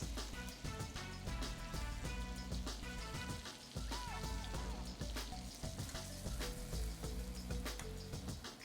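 A Wagyu ribeye steak fries in butter with a dense, loud, continuous sizzle and crackle, spattering throughout as it is basted, with faint clinks from a utensil under the frying.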